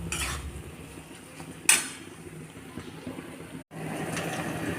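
A spoon scrapes and clinks in a pot while spices with turmeric, salt and a little sugar are stirred for mutton curry, one sharp metallic knock standing out over a soft steady frying hiss, close by with no voices.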